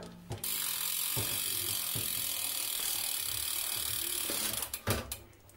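A bicycle's rear hub ratchets with a rapid, continuous buzz of clicks as the wheel freewheels, close by, fading into a few louder knocks at the end.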